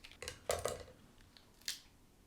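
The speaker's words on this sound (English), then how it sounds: "You need a pair of scissors for this." Kitchen scissors snipping through a cooked lobster's shell to free the knuckle meat, a few sharp crisp cuts and clicks close up, quiet and without speech.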